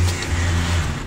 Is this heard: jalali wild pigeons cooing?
no